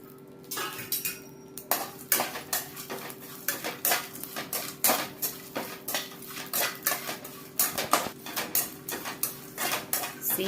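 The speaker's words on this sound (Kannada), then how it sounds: "ಈಗ ಮೊದಲಿಗೆ ಒಂದು ಬಾಣಲಿ ತಗೊಂಡು ಅದಕ್ಕೆ ಸೀಗಡಿನ ಹಾಕಿ ಹುರ್ಕೋಬೇಕಾಗತ್ತೆ." Shrimp roasting in a pan with a metal utensil scraping and clattering against it, giving sharp repeated clinks and scrapes in an uneven rhythm, close and fairly loud, with no voices.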